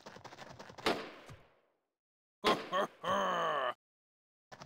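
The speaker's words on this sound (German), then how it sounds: "Jeder Schuss sitzt." Gunfire in the tactical game Jagged Alliance: a sharp shot with a decaying tail, then after a pause a quick burst of two or three reports and a longer ringing blast, loud and close with no talk over them.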